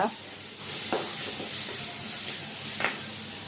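Curry leaves fry in hot oil with a continuous close hiss and sizzle, broken by a few sharp crackles and spits, with no voices.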